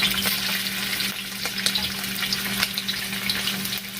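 Pork belly crackles and sizzles in hot oil, a steady dense frying hiss with scattered sharp pops and spatters, close and continuous, no voices.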